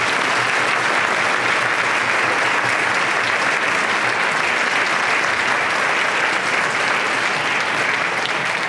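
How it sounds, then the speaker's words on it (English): Sustained applause from a large audience at a community business appreciation event, a dense even wash of clapping that holds steady and loud for the whole stretch. "round of applause."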